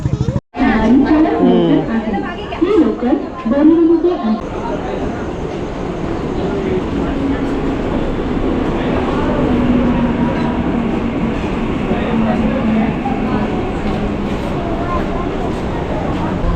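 A Mumbai suburban local train rolls along with a constant rumble and rattle, while passengers chat throughout and a few voices stand out near the start.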